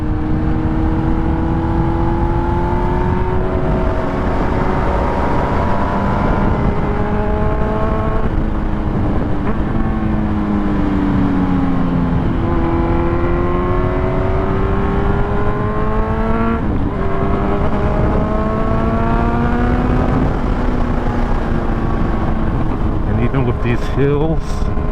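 Kawasaki Z900 motorcycle riding along a road, its engine droning steadily and rising and falling in pitch through gear changes as it climbs and crests hills, loud and continuous with wind noise throughout.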